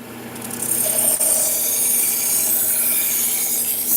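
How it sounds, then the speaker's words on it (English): Knife edge ground on a 600 grit belt grinder, a steady continuous abrasive hiss and rasp running close and loud for several seconds without pause. "So let's move down to our 600 grit belt. This one just refines that edge,"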